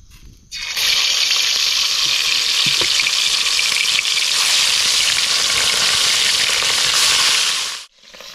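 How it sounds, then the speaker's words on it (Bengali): Spice-marinated fish fries in a pan over an open campfire on a remote island, a loud, steady, close sizzle that starts abruptly, holds for several seconds and cuts off sharply. "মাছ ভাজা কিন্তু এক খোলা হয়ে গেছে"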